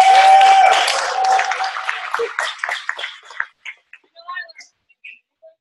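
A fitness workshop audience applauding, dense clapping at first that thins out into scattered, fading individual claps over a few seconds.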